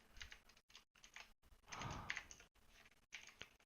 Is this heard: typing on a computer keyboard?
yes